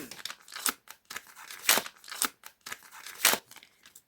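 A paper sticker packet for a Disney sticker album is torn open and crinkled, then a sticker is peeled and pressed onto a page, giving several sharp rustling bursts with quieter handling between them, close by.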